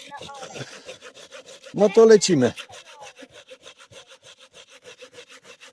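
A hand saw cuts through wood with quick, regular back-and-forth strokes, close and rhythmic, briefly interrupted by a man's short spoken phrase.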